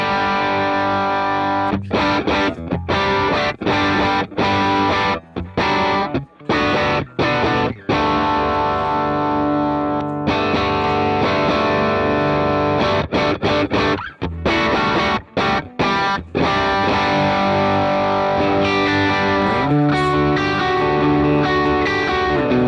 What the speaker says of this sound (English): And then the Proanalog dual drive on the clean side here.